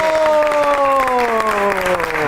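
Studio audience applause on a Pakistani comedy talk show greeting a film star, steady clapping under bright sustained musical tones that slide downward throughout.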